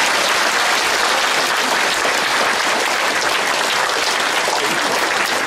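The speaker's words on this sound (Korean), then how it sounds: "다시 한번 박수 드려주시겠습니까?" Sustained, loud audience applause fills the hall at a county governor's inauguration ceremony in Uiryeong, a dense steady clapping with no speech over it.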